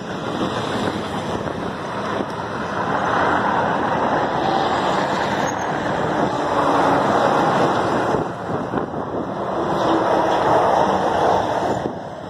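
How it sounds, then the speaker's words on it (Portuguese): Motorboat out on the water beyond a kayaker near São Paulo, a continuous engine drone mixed with heavy wind buffeting and water wash, loud and steady throughout with no voices. "Uma lancha ao fundo."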